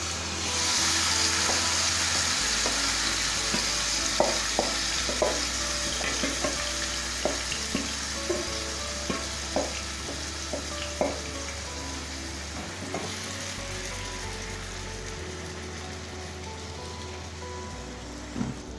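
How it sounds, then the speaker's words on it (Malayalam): Chicken pieces shallow fry in a pan for chicken tikka masala, a continuous close sizzle with frequent sharp spatters and pops, plus a low steady hum in the background and no voices. "ഇനി നമുക്കിതിലേക്ക് ചിക്കൻ ഇട്ടൊന്ന് ഷാലോ ഫ്രൈ ചെയ്ത് എടുക്കാം."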